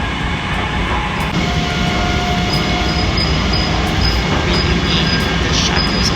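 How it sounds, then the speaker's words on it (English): A loud, continuous low rumble of a train rolling along the rails toward downtown Long Beach Station, with faint high squeals and clicks over the steady roar. "I'm on the train."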